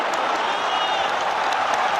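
A football stadium crowd at a Premier League match between Arsenal and Tottenham roars in a dense, steady wash of cheering and clapping that holds at one level throughout, with no separate voices standing out.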